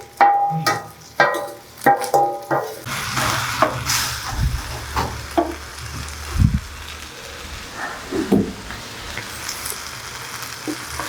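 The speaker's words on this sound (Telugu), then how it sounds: "సో ఇట్లా కొంచెం మాగేదాకా దగ్గరికి అయ్యేదాకా ఫ్రై చేస్తాము" Chopped medicinal leaves frying and being stirred in a pan, a low steady sizzle with intermittent scraping and clatter of a utensil against the pan, close and moderately loud, no talk.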